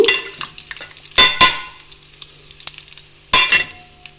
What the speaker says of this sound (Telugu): మనం వేసుకున్న పోపు దినుసులు కొంచెం ఫ్రై అయ్యాక ఎండుమిరపకాయలు, కరివేపాకు వేసుకుందాము